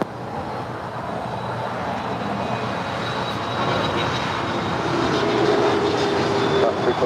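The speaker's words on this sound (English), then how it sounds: "Looks like the Singapore Airlines 777-300ER actually heading to the north side" A Singapore Airlines Boeing 777-300ER taxiing at LAX, a steady broadband jet engine roar with a faint high whine, growing slightly louder toward the end, heard from a distance without talk.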